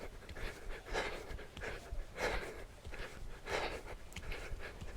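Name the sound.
heavy breathing during HIIT workout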